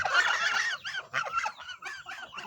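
Geese on a small Thai poultry farm honking, a burst of loud nasal calls followed by a run of repeated honks, close and alone.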